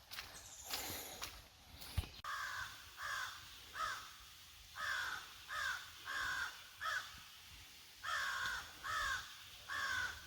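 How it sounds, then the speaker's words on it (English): Crows caw loudly and close by in a steady run of harsh, evenly spaced calls, each burst short and ragged, with faint background rustle between them. "I don't speak crow, but I think someone is pissed."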